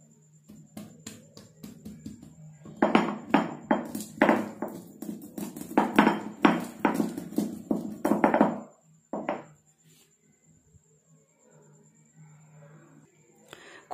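Ginger and cloves are crushed with a quick run of a dozen or so sharp, hard pounding thuds, close and fairly loud, followed by a single later knock before the sound trails off.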